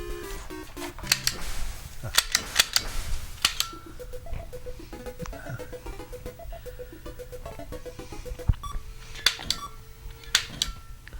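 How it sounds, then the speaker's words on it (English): Shots from NES light gun clay shooting on a retro console, sharp electronic bangs repeating in irregular bursts over chiptune-style game tones and beeps, moderately loud and close. "Let me do a round of clay shooting."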